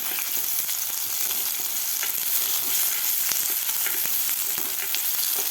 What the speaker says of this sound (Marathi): आता कांदा आपल्याला व्यवस्थित भाजून घ्यायचा आहे.